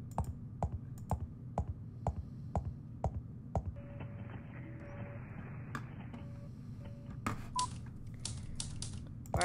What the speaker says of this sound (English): someone's in there typing